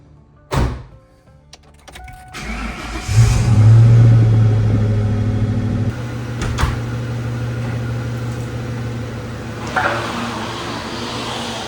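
Ford Mustang Mach 1 cranking and starting with a sharp thunk, followed by a close, steady low rumble as it idles and pulls away, with a few faint knocks and clicks and no voices.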